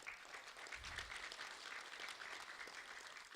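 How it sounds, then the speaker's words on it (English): Applause from an audience at a school district meeting, a steady, even round of clapping heard alone, fairly quiet and distant. "Round of applause for Mr. Gerald Deming."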